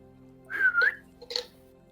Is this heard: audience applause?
no